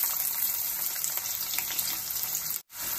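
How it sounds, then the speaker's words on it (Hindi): Chopped onion frying in a hot pan after cumin has browned, giving a steady, close, continuous sizzle with no speech. "अभी हमने जो प्याज कट के रखा वो फ्राई कर दिया।"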